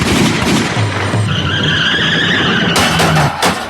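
A car speeds and skids in a radio-drama sound effect, loud, with a sustained tire screech over engine rumble, ending in sharp abrupt bangs.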